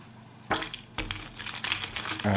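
Game cards for Kanban solo play slide and rustle as they are shunted into a cloth bag, giving close, crinkly bursts of shuffling that come in two or three rough pushes.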